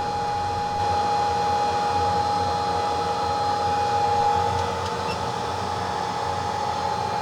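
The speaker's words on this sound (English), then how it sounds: "Now we will let the machine solder the chip for us." A BGA rework machine heats an eMMC chip onto the board of a Hisense 75H6570G 4K TV. It gives a steady, fairly loud blowing hum with a constant whine, unbroken for the whole stretch.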